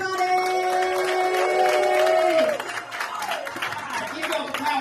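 A comedy club audience claps and cheers for a comedian, a steady wash of applause under a loud introduction from the host that fades into quieter clapping.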